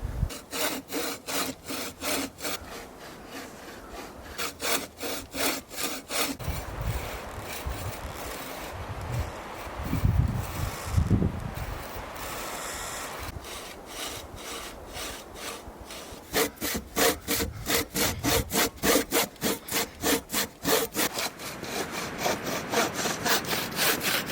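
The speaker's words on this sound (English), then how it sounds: "I'm going to try to cut this little pine tree." A hand saw rasps back and forth through a small pine tree in quick, rhythmic strokes, pausing briefly midway before resuming faster; close and steady, with no talking, outdoors in snow at night.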